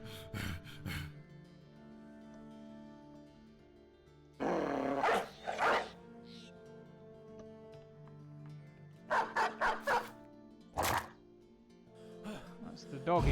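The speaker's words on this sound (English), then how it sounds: "That's the dog in there." A dog in the Battle Brothers game gives several loud bursts of barking and snarling growls, separated by quieter stretches under a low game soundscape.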